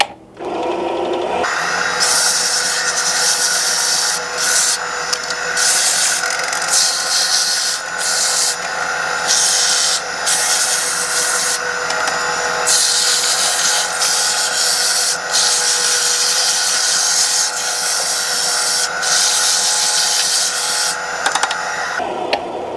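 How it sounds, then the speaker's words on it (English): A turned fishing rod grip spinning on a lathe while being sanded with 150 grit sandpaper, a steady, loud, close rubbing hiss that briefly cuts in and out as the paper is lifted and reapplied. "move to the 150 grit sandpaper for the final sanding and smoothing of the grip"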